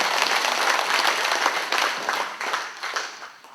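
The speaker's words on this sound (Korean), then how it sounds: "강의해 주신 우리 원인 스님께 다시 한번 큰 박수 부탁드립니다." Audience applause fills the hall at the close of an invited memorial lecture, a dense, steady wash of many hands clapping together without talk, fading slightly toward the end.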